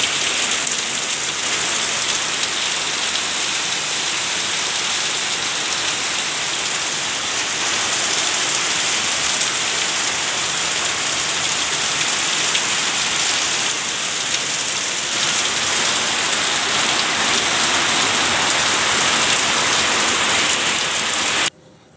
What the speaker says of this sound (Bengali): ঝমাঝম বৃষ্টি শুরু হয়েছে। প্রায় 11টার মতো বাজে, এত পরিমাণে বৃষ্টি হচ্ছে